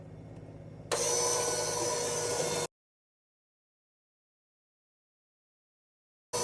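An electric hand mixer with a whisk attachment whirs loudly for about two seconds as it mixes peppermint bath bomb powder, then cuts off abruptly into silence before briefly starting again.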